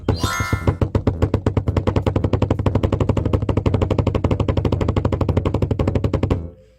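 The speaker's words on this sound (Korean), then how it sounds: "이게 더블 스트로크예요." A drum double stroke roll played on a drum, a fast, even stream of sharp close strikes lasting several seconds after a brief opening hit, then stopping.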